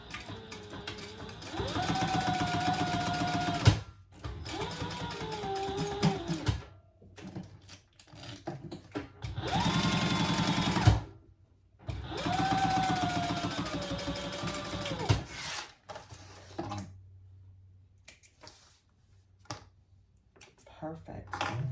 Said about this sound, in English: now we're going to top stitch